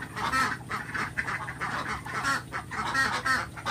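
A flock of laying ducks on a village farm quacks continuously, many overlapping nasal calls in quick repeated bursts, close and fairly loud.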